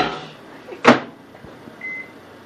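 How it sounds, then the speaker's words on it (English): A home microwave oven is handled in a quiet kitchen: a sharp door clunk, a few soft taps, then a short electronic beep, all close and with no talking. "Oh, we have a microwave."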